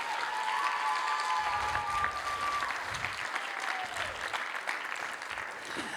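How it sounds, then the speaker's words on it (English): Steady audience applause fills a school winter jazz concert hall, with a few whistles riding over the dense clapping for the full stretch, loud and sustained without any talk. "give him another round of applause for"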